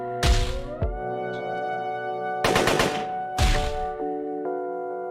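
Gunfire in the video game Long Gone Days, loud close bursts of rapid shots in three separate volleys, each followed by a ringing metallic tail over a steady musical drone.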